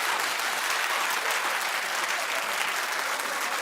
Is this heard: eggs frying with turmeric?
no